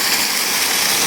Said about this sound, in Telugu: వాటర్ ఏ విధంగా వస్తాయో చూడండి